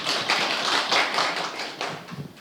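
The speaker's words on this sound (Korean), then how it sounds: "큰 박수 부탁드리겠습니다." Applause from an audience at a press conference launching a Korean patients' and consumers' coalition, held in a hall in Korea; dense, steady clapping of moderate loudness carries on throughout without talk.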